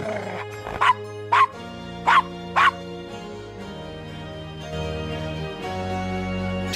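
Several sharp, fairly loud dog barks from Gabriel Knight, four quick yips spaced about half a second apart, followed by a low background hum with no barking.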